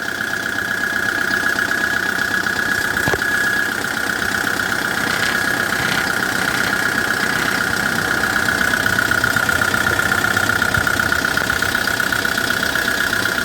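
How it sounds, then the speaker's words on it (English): A 2009 Kia Bongo III 1.2-ton diesel truck with manual transmission idles steadily with its engine bay open, a continuous even rumble with a persistent whine on top, close by and alone for the whole stretch. "Listen to the sound of the engine."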